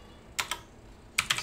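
Fingers tap a computer keyboard while an email address is entered, two quick pairs of crisp keystrokes separated by a short pause, close and clear with no voices.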